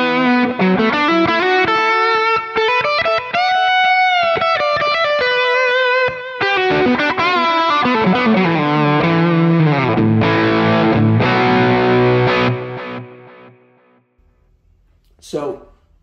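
Distorted electric guitar lead played through a Marshall Plexi amp model on a Quad Cortex, with moderate overdrive: a loud, sustained melodic line of bends and held notes that fades out near the end.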